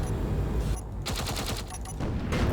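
Cannon fire from a three-cannon ship in Space Engineers, a Star Wars style Y-Wing bombing run, comes as a dense rapid volley of booming impacts and crackling blasts that runs continuously and loud, with no talking.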